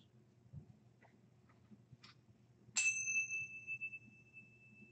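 A bell rung during a Gnostic Mass ritual, a single bright strike ringing out with a long sustained shimmering decay over a quiet room, preceded by a few faint clicks.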